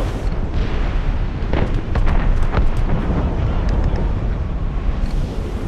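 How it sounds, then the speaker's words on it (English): Distant cannon fire rumbling through fog at sea in Assassin's Creed Rogue, a dense, continuous low roar with muffled booms and wind noise, no voices. "Cannon fire, deep within the fog."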